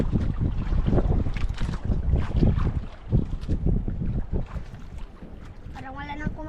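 Strong wind buffets a boat at sea as waves grow, rumbling, gusting roar close to the microphone throughout, with a brief voice near the end.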